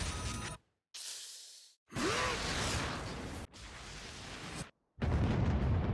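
Anime fireworks-like explosions in Solo Leveling erupt as several loud, broad blasts and whooshing bursts separated by brief silent cuts, filling the clip with dense, booming noise.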